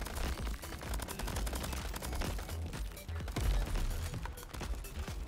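Gunfire in the co-op third-person roguelike shooter Crab Champions: rapid, rattling bursts of shots in quick succession, loud and continuous throughout, with a voice speaking over the shooting.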